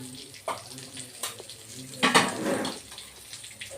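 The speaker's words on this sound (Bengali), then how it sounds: "তেজপাতা আর শুকনা লঙ্কা দিয়ে দিব এই যে শুকনো লঙ্কা দিয়ে দিলাম" Bay leaf and dried red chilli dropped into hot oil, a soft sizzle with clinks and scrapes of a spoon against the pan, then a louder burst of frying after about two seconds that settles down.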